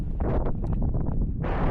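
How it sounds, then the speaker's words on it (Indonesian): Strong mountain wind buffets the microphone in a continuous roaring rush on the Merbabu trail between Gancik and Genting, with a louder gust swelling at the end and no voices. "Anginnya masih lumayan kenceng, grebet-grebet"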